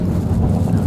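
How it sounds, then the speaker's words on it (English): A strong gust of wind at Crimond Raceway in Scotland buffets the microphone, producing a loud, low rumbling roar that fills the short moment without a break. "There's a big gust of wind coming across now."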